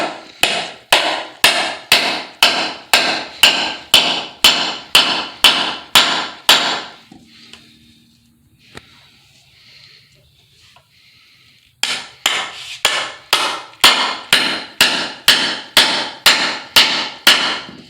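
Rapid, evenly spaced hammer blows drive nails into wood, pausing for a few quiet seconds before the rhythmic pounding resumes.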